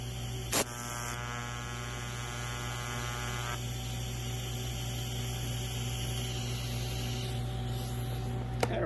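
A TIG welder lays a fusion tack on clamped thin sheet metal, giving a steady electrical buzz and hum that holds evenly for several seconds. A sharp click sounds near the start, and no voices are heard.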